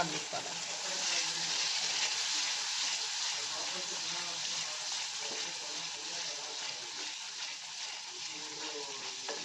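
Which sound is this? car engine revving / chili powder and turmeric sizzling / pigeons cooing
chili powder and turmeric sizzling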